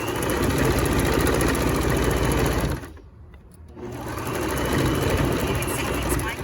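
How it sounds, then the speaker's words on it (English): Sewing machine running steadily as it edge stitches an eighth of an inch from the edge of a pocket facing, a loud continuous motor whir that stops briefly for a pause near the middle before resuming. "do the 1/8 inch edge stitch along the left edge of the pocket facing"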